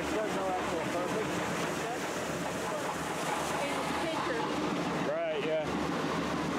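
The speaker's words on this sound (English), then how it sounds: "There's a waterfall, which has no actual purpose." Zoo waterfall gives a steady, broad rushing wash of water throughout, with people talking faintly over it.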